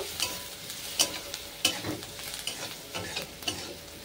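Spatula stirring turmeric and chili powder into potatoes frying in a pan, a steady sizzle punctuated by about seven sharp scraping strokes at an even rhythm, close and moderately loud, with no talking.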